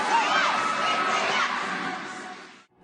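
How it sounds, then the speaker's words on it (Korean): A huge crowd of tens of thousands cheers and screams continuously at the New Year's event in Times Square, New York, as BTS takes the stage, a loud, dense roar that falls away at the end. "마치 새해 카운트다운을 하듯 수만 명의 사람들이 열렬히 환호합니다"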